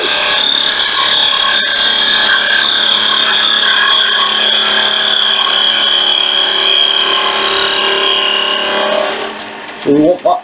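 Walnut honey dipper spinning on a wood lathe at about 2000 rpm, a steady, loud cutting hiss and whine with tonal bands that runs continuously for about nine seconds before the tool lifts off and a few bumps follow.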